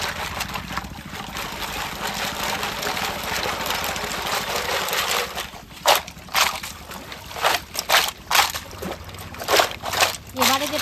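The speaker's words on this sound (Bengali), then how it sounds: "এবারে পুকুরের মধ্যে ভালো করে ধুয়ে নেব" Oyster shells being washed in a village pond, with water sloshing and splashing in repeated bursts near at hand while a person talks.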